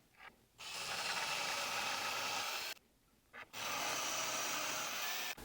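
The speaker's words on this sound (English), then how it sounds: "So they'll hold that drill bit straight while I go ahead and drill in here." A hand drill bores holes for a guitar tremolo, giving two long, steady bursts of grinding, whirring noise separated by a short pause, close and fairly loud.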